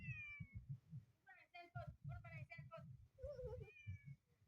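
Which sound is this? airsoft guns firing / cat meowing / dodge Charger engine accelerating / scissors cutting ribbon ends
cat meowing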